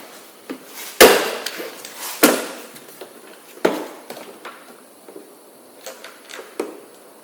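A push-clip front trim piece is pulled off a Corvette C8, giving a few sharp plastic snaps and knocks, loud and close, spaced irregularly among softer handling clatter.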